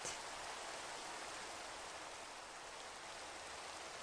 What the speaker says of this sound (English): Oh, more rain.